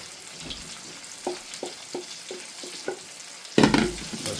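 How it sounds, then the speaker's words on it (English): Mushrooms, garlic and thyme hit a risotto pan, giving a string of light taps and stirring scrapes before a louder sizzling burst near the end, close-up with no talking. "So we're gonna go in with our mushrooms and garlic and thyme."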